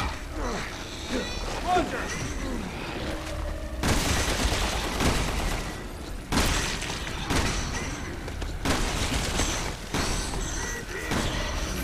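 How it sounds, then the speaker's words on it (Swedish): Gunfire in the video game Resident Evil 6 comes as loud, dense bursts of shots and booms that start and stop abruptly several times, with players chatting over the action. "Jag skjuter på honom."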